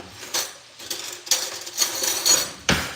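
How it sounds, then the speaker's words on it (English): A spoon clinks and scrapes against a pan while chili oil is broken up and mixed, giving irregular close metallic knocks and scrapes with a sharper clatter near the end. "we're gonna just continue to break it up and mix stuff in"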